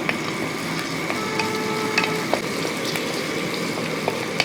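Chopped garlic and green chillies frying in a pan, giving a continuous dense sizzle and crackle, with light scraping ticks from stirring throughout.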